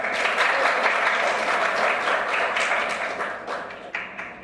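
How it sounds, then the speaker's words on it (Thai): An audience at a Thai forum on amending the constitution applauds to welcome a speaker, giving a dense, steady round of clapping that stays loud throughout and thins slightly toward the end. "ขอ เสียงปรบมือต้อนรับ"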